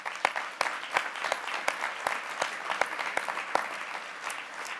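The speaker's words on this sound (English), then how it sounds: "So a huge round of applause to all of you." Applause for volunteers at an awards gala in a Sheraton Times Square hotel ballroom, a dense steady crowd clapping with sharp individual claps standing out near the microphone.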